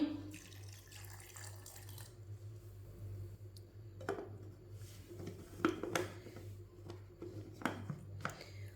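Water runs from a tap in a kitchen while a cook adds a little water to garlic and ginger for grinding, a steady trickle with a few clicks and knocks alongside.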